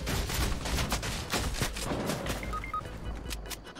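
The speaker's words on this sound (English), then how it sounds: "I'm being shot by literally everyone in the lobby right now." Gunfire from many players in an online shooter game lobby, dense overlapping rapid shots and bursts at close and mid range, loud and continuous with no pauses.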